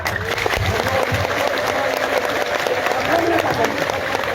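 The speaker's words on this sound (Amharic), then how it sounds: "ጭብጨባ" Loud, steady applause from a large crowd fills the whole stretch, dense clapping without a break.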